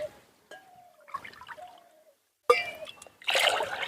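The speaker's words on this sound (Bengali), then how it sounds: "চার বাটি তো চার বাটি জলটা দিয়ে দিলাম" Water poured from a bowl into a pot to start a sugar syrup for chhena rasgulla, heard as short splashes and trickles between gaps, ending in a louder burst of pouring.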